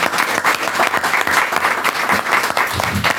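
Forum audience on social movements breaks into applause, dense and close clapping with uneven surges throughout about three seconds.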